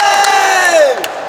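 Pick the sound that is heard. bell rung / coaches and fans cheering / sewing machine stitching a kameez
coaches and fans cheering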